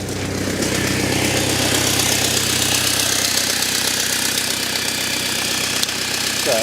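A BMW engine runs steadily after being fired up while smoke is traced from a suspected exhaust leak, giving a continuous, fairly loud rough idle with a knocking, clattering texture and no voices.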